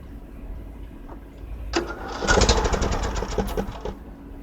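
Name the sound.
John Deere LA105 riding lawn mower engine starting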